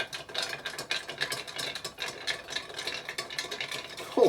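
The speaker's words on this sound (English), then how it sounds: "let's give this really fancy cocktail a stir" A spoon stirs a Manhattan of cask strength bourbon over ice in a glass, making a soft, steady, rhythmic swirl of clinking ice, close and alone.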